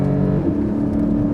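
A 2023 Porsche 718 Cayman GTS 4.0 engine pulls from low revs near 3,000 rpm with the throttle floored. It gives a steady, close, deep hum that rises only slightly over a brief moment.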